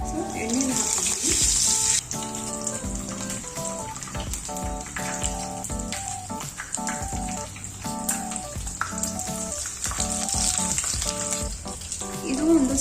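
Stuffed brinjals fry in a little oil in a pan, giving a steady crackling sizzle with light spatters throughout, under background music.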